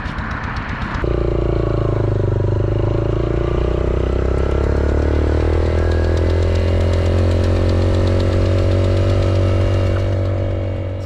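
Motorcycle engine running loudly and close on a mountain road trip out of Skardu, a steady droning rumble after a brief start, with constant wind and road noise and no talk.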